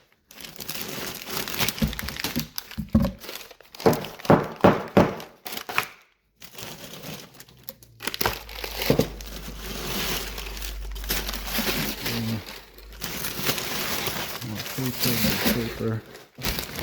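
Packing paper crinkles and crumples in repeated bursts while a shipment of overnight-shipped crabs is unpacked, with a person talking between and over the rustling.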